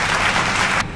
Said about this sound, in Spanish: Vale, ya está el aplauso.